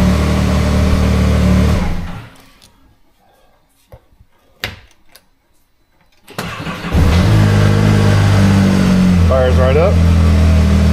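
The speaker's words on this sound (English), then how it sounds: "Let's try to kill it and restart it and see how it sounds." A Ford Maverick R fitted with an EVO E85 upgrade kit runs loudly, is switched off into near silence with a few clicks, then cranks and fires back up to a strong, steady idle close by.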